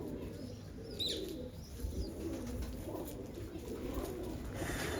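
Pigeons coo softly at their loft after flying back in, with low murmuring calls and a brief sharper chirp near the start, all quiet and steady against faint background noise.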